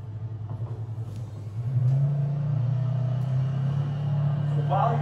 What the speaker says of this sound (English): At this point, you're driving to the next sample.